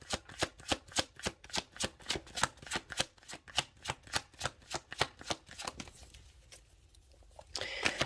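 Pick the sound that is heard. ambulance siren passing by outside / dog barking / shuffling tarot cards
shuffling tarot cards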